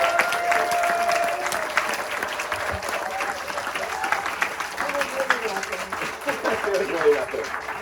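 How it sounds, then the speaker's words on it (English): A keynote audience at a 50th anniversary event applauds Diane Whealy with loud, full clapping and crowd noise, while voices rise and talk continues over the fading ovation. "A huge round of applause for Diane"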